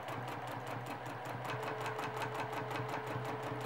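A sewing machine stitching in free-motion quilting, its needle running in a fast, steady, even rhythm of rapid clicks over a mechanical hum, heard close and alone.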